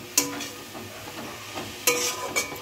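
Slit green chillies dropped into mustard greens frying in a pan, giving a faint sizzle with two brief sharp bursts of stirring and clatter, no voices.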